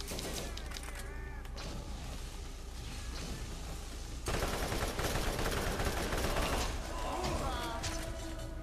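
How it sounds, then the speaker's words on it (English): Gunfire in the Borderlands video game, bursts of rapid shots and crackling impacts that grow louder and denser midway, mixed with game effects, with a voice talking over the start. "Somebody was shooting at me over there."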